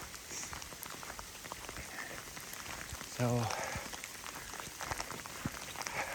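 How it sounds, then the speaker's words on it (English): Hail falls during a heavy hail storm on the Deschutes River Trail in Oregon, making a dense, continuous patter on the ground, with a brief voice partway through. "This is an accumulation of hail,"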